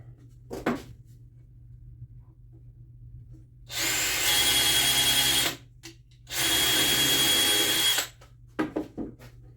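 A power drill bores into wood while building a wood duck house, running in two sustained bursts of about two seconds each with a short pause between, loud and close, framed by a few light knocks of handling.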